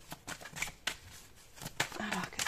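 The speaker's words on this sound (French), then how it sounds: "Je prends une troisième carte, s'il vous plaît." A tarot card is drawn from a deck, giving several short, crisp rustles and flicks of card stock close by, mixed with a person talking.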